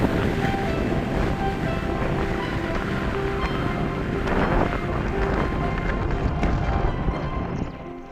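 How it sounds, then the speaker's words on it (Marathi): Strong wind roars continuously at the top of a hilltop fort with twenty bastions, a dense broadband rush buffeting the microphone throughout and easing slightly at the very end. "वाऱ्याचा आवाज प्रचंड येत आहे"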